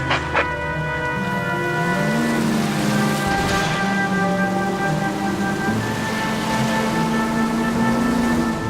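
Steady rain hisses across the whole stretch, with a low droning hum underneath and no voices, in the video game L.A. Noire.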